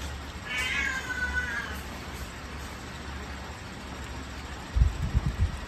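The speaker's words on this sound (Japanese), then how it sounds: "猫ちゃんキッキです" A faint, high meow from a newborn kitten rises briefly early on over a steady low hum, followed later by a few soft low thumps.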